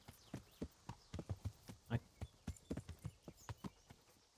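Horse hooves clip-clop in Kingdom Come: Deliverance, a steady run of sharp, fairly close hoofbeats at an even walking rhythm, heard alone and at low volume.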